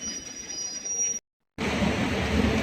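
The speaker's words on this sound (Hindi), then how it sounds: "साइड से मालगाड़ी पास हो रहा है।" A freight train rolls past on a nearby railway track, making a steady loud rumble and wheel noise with high squealing tones. The sound drops out briefly partway through and then resumes even louder, with no talking.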